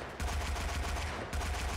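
A machine gun fires in the WWI shooter Tannenberg: a rapid, continuous burst of heavy thumping shots, close and loud, with a brief gap near the end before firing resumes.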